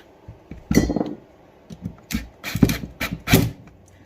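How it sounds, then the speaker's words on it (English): Small metal screw dropped on a workshop floor during repair of a Makita DTW285 impact driver, a few sharp light clinks and rattles in close succession, alone without talk. "Dropped a screw on the floor."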